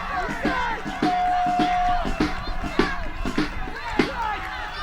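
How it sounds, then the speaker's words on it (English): Wrestling fans cheering in a stadium crowd during a women's match submission hold, a broad roar of voices with sharp thuds and slaps from the ring cutting through, steady and loud throughout. "you hear those fans cheering for her to tap"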